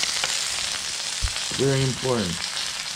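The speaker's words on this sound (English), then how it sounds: "You want to flip your wing so every side gets cooked." Mayo chicken wings sizzle steadily on a George Foreman grill with a close, continuous frying hiss, while someone speaks briefly over it.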